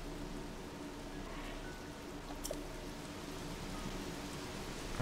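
Rain falls in the video game Zelda: Tears of the Kingdom as a soft, steady, even patter of drops throughout, quiet and without voices.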